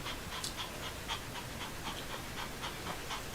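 A dog pants rapidly and steadily up close, quick rhythmic breaths repeating without pause for a few seconds.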